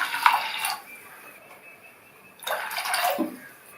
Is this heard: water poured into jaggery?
yes